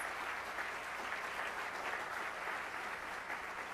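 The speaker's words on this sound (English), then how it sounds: "can we give a round of applause to all of these incredible employees?" An audience applauding employees at a spring closing meeting, a dense, continuous wash of clapping that holds steady at moderate loudness from start to finish, with no voices over it.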